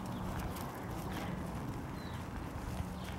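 A herd of goats runs toward peaches set out as food, with dense hooves pattering and scuffing over the ground in a steady close shuffle and no voices on top.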